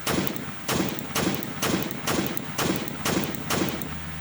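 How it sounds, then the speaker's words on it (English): Gunfire in a Unity zombie shooter test, fired at the sky: a steady sequence of about eight loud, evenly spaced shots, each with a short echoing tail. "instead of shooting at the zombies, I'm going to shoot it at the sky"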